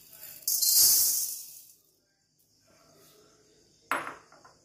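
Wheat grains roasting in a hot pan over a gas flame, with a loud sizzling, rattling burst as grains hit the pan, a quiet gap, then a sharper clatter and fading hiss.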